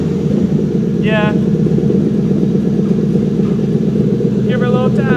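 Ford Terminator Cobra with a new intake and loud aftermarket exhaust, running with a steady, heavy low rumble throughout, near and loud, while people talk over it.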